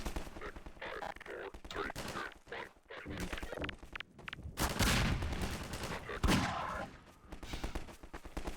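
Gunfire in Half-Life 2, with bursts of rapid shots and scattered single cracks among game sounds and movement, loud and dense in the middle and then easing off.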